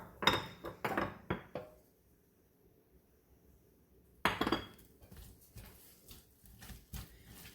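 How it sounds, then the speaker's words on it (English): Hash brown casserole ingredients mixed in a bowl: sharp utensil clinks and scrapes against the dish in quick bursts, a quiet pause, then more clattering strokes, close and clear. "I'm going to go ahead and mix that together"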